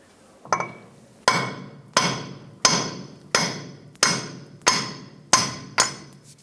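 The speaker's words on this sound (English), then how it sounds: "I'm just going to use a large hammer and punch it out" Nine sharp metallic hammer blows on a punch strike at a steady pace, driving out a rear wheel stud on a 2008-2010 Ford F-450 Super Duty, each ringing briefly before the next.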